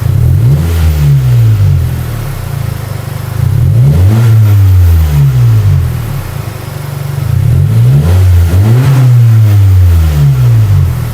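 A Honda Civic RS Turbo revs repeatedly, each blip swooping up and back down in three distinct bursts with a smooth idle between, loud and close with no voices.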